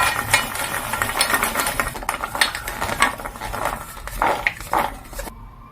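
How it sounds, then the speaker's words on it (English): Roasted groundnuts being shaken and tossed in a pan, a continuous dry rattling and scraping with rhythmic bursts of louder clatter, close and fairly loud, without talk, ending abruptly. "You're going to give it a shake, rock and roll"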